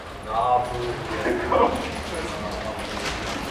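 A dog barks a few times at a distance, brief yips over steady outdoor background noise.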